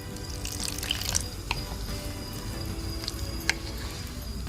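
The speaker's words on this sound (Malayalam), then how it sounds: "കുറച്ചുകൂടി വെള്ളം ഒഴിക്കാം." Water is poured into banana fritter batter, a close, continuous trickling and splashing with a few soft drips and clinks.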